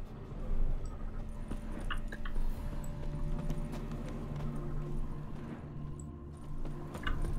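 Horses clip-clopping as they ride away in The Witcher 3, a rapid run of hoofbeats at moderate distance, fading and returning over a low outdoor ambience, with no voices.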